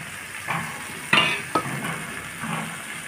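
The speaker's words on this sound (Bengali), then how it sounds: "এখন আমি এর মধ্যে দিয়ে দেবো ভাজা মাছগুলো।" Fried fish pieces go into sizzling potato and pointed gourd masala in a pan, a continuous close sizzle punctuated by a few sharp clinks and scrapes of a spatula, with no talk.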